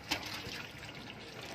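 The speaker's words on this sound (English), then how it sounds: "And we add water" Water pours steadily into dry cow dung powder inside a biogas mixing container, a continuous close trickling wash with a brief splash at the start and no voices.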